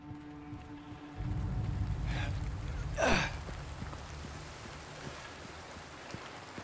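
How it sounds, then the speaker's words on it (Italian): Steady rain patter in the Silent Hill 2 Remake video game, a soft continuous hiss with a low rumbling swell partway through and a brief breathy whoosh, no talking. "come se l'acqua, la pioggia non si è mai vista nella storia dei videogiochi"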